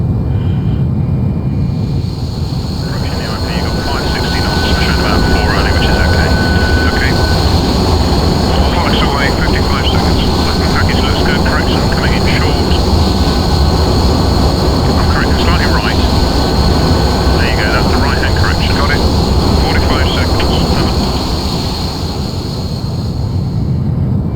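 A MilViz F-4J Phantom II jet in a flight simulator, flying fast at around 600 knots and Mach 0.9, a loud steady roaring engine drone with whistling overtones that holds unchanged throughout.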